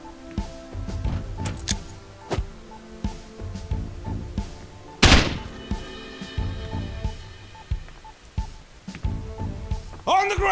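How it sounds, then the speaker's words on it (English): A door banged open in the Police Stories video game: one loud sharp crash midway, set among quieter footsteps and thumps, with people talking before and after. "We're going to bang the door open."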